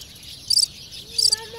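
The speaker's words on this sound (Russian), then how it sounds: "Тебе эти попугайчики есть, птички разные." Colourful parrots in a bird sanctuary give two short bursts of bright, high chirps, fairly faint and apart from each other, with a soft whistled call rising near the end over quiet background noise.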